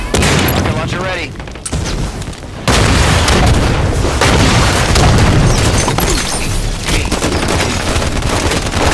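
Rocket launcher explosions in a Halo Infinite multiplayer match, loud dense booming blasts with crackling gunfire running almost continuously, one brief lull near the start, with talk mixed in.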